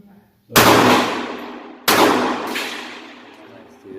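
Two sharp gunshots from a Ruger LCP2 pistol at a shooting range, loud and close, each cracking out and ringing off with a long decaying tail, the second following about a second and a half after the first.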